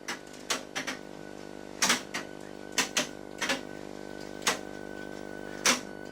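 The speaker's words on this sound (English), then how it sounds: "Let's start by rewinding all the booths. Rewinding all the students' tapes there, look." Tandberg IS6 language lab tape decks rewinding, with scattered sharp mechanical clicks and clunks from the decks over a steady low machine hum, fairly quiet and irregularly spaced.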